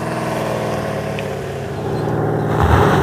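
A Porsche Cayenne V8 with an 8-speed gearbox grinds along a rough dirt road, its steady engine drone rising in load and revving harder toward the end, rumbling loudly and close with no talking.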